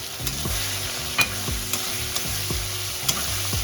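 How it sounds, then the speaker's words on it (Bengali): Prawns fry lightly in a hot pan for a Bengali mocha chingri dish, a loud continuous close sizzle broken by regular spatula knocks and stirring scrapes, with no talking. "চিংড়ি মাছটা হালকা ভাজবো, বেশি ভাজবো না।"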